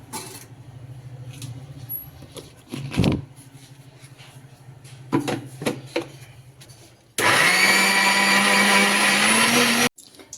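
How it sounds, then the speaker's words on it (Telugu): A mixer grinder blends fried chillies and onions, a loud steady whirring roar that starts abruptly and runs for about three seconds near the end, after a stretch of quieter kitchen knocks and clatter. "ఆనియన్స్ వేసేసుకొని ఒక్కసారి మిక్సీ వేసేసుకున్నాక చూసి కొంచెం వాటర్ యాడ్ చేసేసుకొని మళ్ళీ మిక్సీ వేసేసుకోవాలి"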